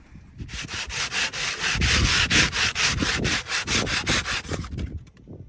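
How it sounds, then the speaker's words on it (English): A piece of wood is sanded by hand with steady back-and-forth strokes in a quick, even rhythm, a loud, close, dry scratchy rasp repeating about twenty times with no talking. "being given this piece of wood here, and I'm gonna sand it down a bit and prime it"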